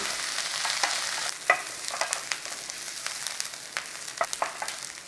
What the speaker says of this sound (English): So we've got a little bit of a saute on there.